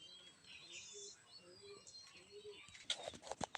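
Racing pigeons coo softly in a short repeated rhythm, faint and somewhat distant, followed by a few sharper chirps and small clattering noises near the end.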